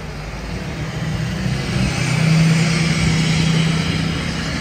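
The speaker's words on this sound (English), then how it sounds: "Here comes Martin in his 4x4." A 4x4 vehicle approaches and pulls in, its engine a steady low rumble that grows louder toward the middle and holds near, with no talking over it.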